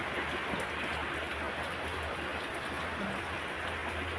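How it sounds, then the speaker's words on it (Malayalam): Steady heavy rain falling outside a home kitchen, a dense continuous hiss with a faint low rumble beneath, constant and unbroken throughout without any voices. "പുറത്ത് നല്ല മഴയാണ് കേട്ടോ."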